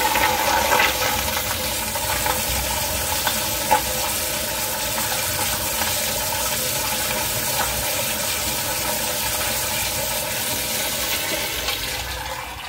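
A wall-hung toilet's flushometer runs a long, steady flush during testing, continuous rushing water at close range that barely fades across the whole stretch, with no talking.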